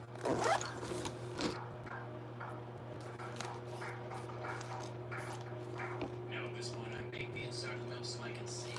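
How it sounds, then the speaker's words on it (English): A pencil case is zipped shut, a quick rasping zip near the start, followed by soft handling and rustling of art supplies over a steady electrical hum. "And the rest of it will be zipped up and put away."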